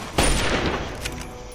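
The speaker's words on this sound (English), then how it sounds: "I thought I heard somebody shooting me still." A single close gunshot in Fallout 3 with a booming report that rings and fades over the following second.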